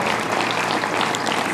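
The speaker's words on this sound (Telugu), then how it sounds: "ఈ హైదరాబాద్ వచ్చిన వాళ్ళ గురించి 9 జిల్లాల వాళ్ళు చప్పట్లతో కొట్టాలి" An audience gathered from several Telangana districts claps in thick, sustained applause for a team from Hyderabad, a continuous even roar of many hands with no speech on top.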